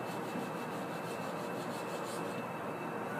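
Porous spongy derusting block rubbed along the steel blade of a Ghanaian sword during restoration; a continuous close scraping hiss, steady and even with no pauses.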